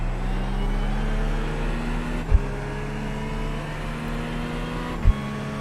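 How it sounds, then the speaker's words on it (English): A GT3 race car on track at Norway's Rudskogen circuit holds a steady droning engine note with a sharp gearshift crack around the middle and again near the end, loud and alone. "If you like the sound of this car, John, you should hear those Mercs."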